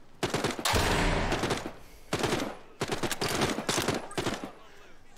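Bursts of rapid gunfire in The Walking Dead Saints and Sinners Aftershock VR game, three loud clusters of shots with short pauses between them, close and sharp.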